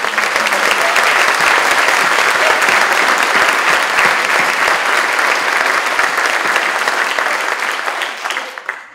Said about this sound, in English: can we give Ava Grace another round of applause?